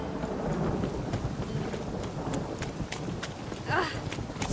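Horse hooves clip-clop steadily at a walking pace in The Witcher 3 video game, close and continuous, with ambient town noise and a brief voice near the end.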